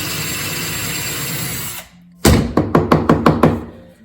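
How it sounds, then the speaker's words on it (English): A power drill bores holes for a homemade tufted bench, first whirring steadily for a couple of seconds, then pausing, then a burst of drilling followed by a run of rhythmic knocking thunks, loud and close. "Let's drill."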